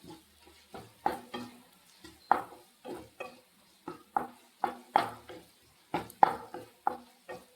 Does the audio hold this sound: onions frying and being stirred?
yes